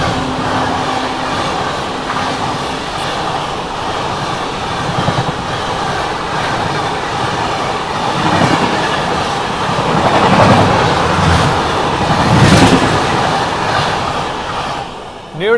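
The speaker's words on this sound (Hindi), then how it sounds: "न्यू दिल्ली भुवनेश्वर दुरंतो एक्सप्रेस गजब का एक्सेलरेट करके गई है भाई" The New Delhi–Bhubaneswar Duronto Express accelerates past while overtaking on an Indian railway line, a steady close rumble of wheels and rushing coaches with clickety-clack beats and a brief squeal, growing louder toward the end.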